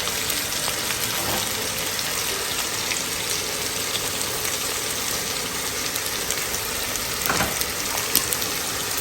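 Dry red chillies torn in half and five-spice tempering frying in oil after prawns, giving a dense, even hiss of bubbling oil throughout, close and fairly loud, with a couple of faint clinks and no talk.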